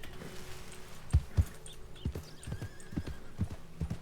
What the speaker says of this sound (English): Oh my goodness, so many horses.